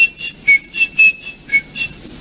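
A preacher whistles in imitation of a husband coming home from the office, a bright, fairly loud melodic whistle in several short rising and falling bursts with brief gaps between them, and no talking.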